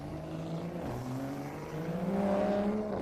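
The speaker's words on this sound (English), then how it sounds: "There goes our A90 Supra with a decent launch." A Toyota A90 Supra launches off the line at an autocross start in Daytona, its engine note droning steadily and rising in pitch as it accelerates, moderately loud and close.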